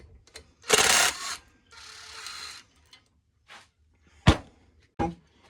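A ratchet works loose a single 8mm bolt holding the oil sensor on a Predator 212 engine, heard as short close clicking bursts separated by pauses and a few sharp knocks.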